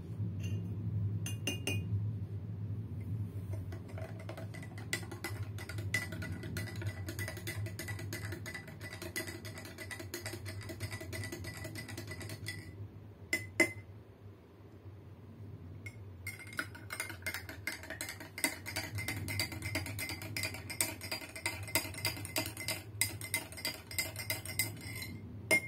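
A spoon clinks against glass cups while stirring powdered chocolate into hot and cold water, giving steady, close tinkling and scraping with a low background hum throughout, briefly pausing midway.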